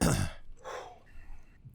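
A person coughs after sucking on a cough drop, one loud throaty cough up front followed by a softer, rougher throat-clearing rasp, close to the microphone with nothing else around it.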